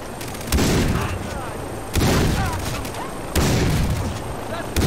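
Gunfire in the Far Cry 3 PC shooter: three loud, booming shots spaced about a second and a half apart, each with a long rumbling tail, while someone speaks over the battle.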